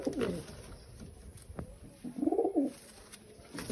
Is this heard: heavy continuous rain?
no